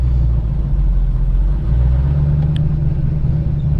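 A manual car rumbles steadily at low revs on a small hill, the engine close and continuous with a brief dip partway through, no talking.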